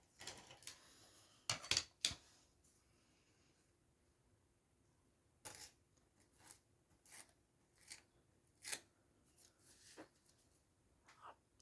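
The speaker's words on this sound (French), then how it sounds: "Donc là, on va découper" Scissors trimming excess paper from a handmade junk-journal notebook made with a birthday card, heard as a series of crisp, close snips and rustles with pauses between cuts.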